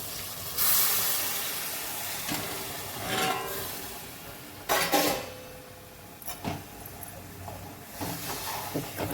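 Water poured onto roasted flour in a hot pan, bursts of loud hissing and steam that flare, fade and flare again, with faint clatter between bursts.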